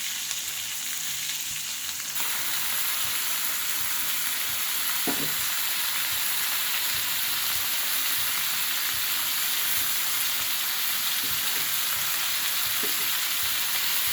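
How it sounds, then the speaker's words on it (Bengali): Chilies and ginger frying in mustard oil give off a steady, close sizzle that holds evenly throughout, with a few faint stirring scrapes and no voices. "এখন একটু মরিচগুলো ভেজে নেব এর মধ্যে আদা দেবো একটু"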